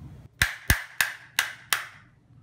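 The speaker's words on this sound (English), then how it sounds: "Then hold the axle in your hand and tap the nut gently." A nut on an S80 bicycle axle is tapped to press-fit a cable drum: five sharp, close metallic knocks at a steady pace, each with a brief ringing decay, no talk.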